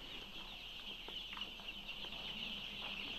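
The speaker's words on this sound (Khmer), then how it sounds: "នេះគឺជាកូនមាន់ដែលទើបដាក់ចូលថ្មី" A dense, steady chorus of high peeping from many newly placed chicks fills a chicken house, continuous throughout with a low background hum and no talking.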